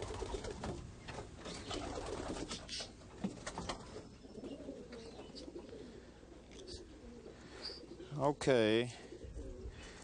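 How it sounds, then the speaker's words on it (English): Messenger pigeons arrive in a backyard in San Pedro, with wingbeats and a close, loud cooing near the end, while people talk over the flock. "waiting for the second batch of pigeons to arrive."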